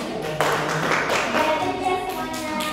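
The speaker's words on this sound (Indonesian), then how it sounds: "Tepuk tangan." A classroom audience of Indonesian seventh graders claps after a class presentation, a dense patter of many hands that starts abruptly and carries on steadily at moderate loudness, with a few voices faintly beneath.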